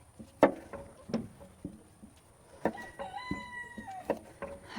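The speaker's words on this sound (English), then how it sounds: "Got a couple different batches of chickens here and there in the yard." Chickens cluck in short, scattered bursts nearby, with a longer drawn-out call partway through against a quiet outdoor background.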